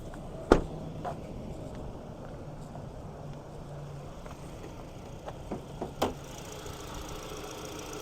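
A 2.5-liter naturally aspirated four-cylinder engine in a 2023 Hyundai Tucson N Line idles with a low, steady rumble, broken by a few sharp clunks and knocks from nearby.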